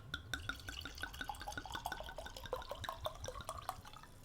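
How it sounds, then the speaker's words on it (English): Red wine from a 2015 Baron de Ley Varietales bottle pours into a genuine crystal glass, making a steady, close, bubbling gurgle that rises slightly as the glass fills, with no talk. "let me go ahead and pour this"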